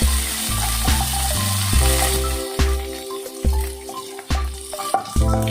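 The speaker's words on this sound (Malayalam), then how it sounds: "ഇതിലേക്ക് പച്ചമുളകും അതേപോലെ കറിവേപ്പിലയും ചേർത്ത് കൊടുക്കും. നന്നായിട്ടൊന്ന് വഴറ്റാം." Green chillies and curry leaves are added to hot oil with cumin and mustard seeds for poha. Sizzling and crackling frying runs underneath, with repeated clatters of a spoon stirring the pan up close.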